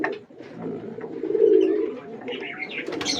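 Pigeons at a nest with chicks give soft, rolling coos up close, with one fuller coo swelling in the middle and faint higher chirps near the end.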